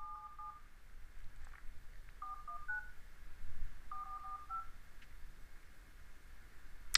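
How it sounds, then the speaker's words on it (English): Telephone keypad tones dialing a number into a phone-in message recording system, three quick clusters of crisp two-tone beeps separated by short pauses over a faint line hiss. "You just dial into this number."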